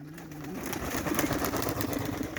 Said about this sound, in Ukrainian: Ось такі голуби.